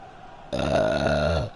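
A long, loud, drawn-out burp rumbles for about a second, close to the mic, after a quiet start, with no talking over it.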